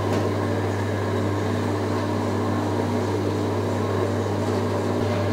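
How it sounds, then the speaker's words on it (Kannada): An electric halwa-making machine with two burners beneath turns its stirrer through jackfruit pulp and ghee, giving a steady, loud mechanical hum with a low motor drone that holds unchanged throughout, with no talk. "ಇನ್ನೀಗ ಈ ಮೆಷಿನ್ ತಿರುಗಲಿಕ್ಕುಂಟು."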